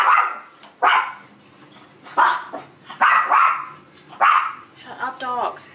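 Several dogs bark loudly and close by in sharp, irregular bursts, some yipping and whining notes mixed in, with a person's voice among them.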